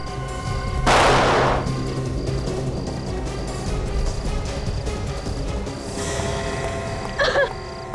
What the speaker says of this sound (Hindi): उसने गोली तो चलाई है।